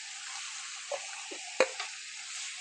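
Marinated chicken sizzles in a kadai, a soft steady frying hiss broken by a few faint pops and one sharper crackle, close but quiet, with no talking.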